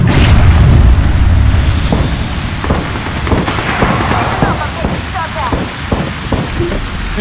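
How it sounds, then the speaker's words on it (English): Grenade explosions and gunfire in the battle royale video game Apex Legends: a loud booming blast opens, followed by repeated sharp gunshot bursts and impacts under continuous game noise, with a voice speaking over the action. "Incoming grenade."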